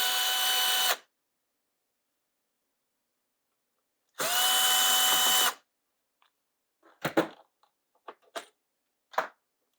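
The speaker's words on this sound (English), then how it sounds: "Let's pull the carburetor off and have a look at her." A power tool on a Craftsman blower whirs in two short bursts while the carburetor comes off, followed by scattered clicks and clunks of loose parts being handled, close and quiet, with no voices.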